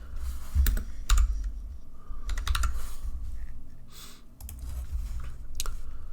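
Computer keyboard typing, a few quick bursts of clicking keystrokes close by with short pauses between them, while entering a search in a crafting menu of a space-crash survival game.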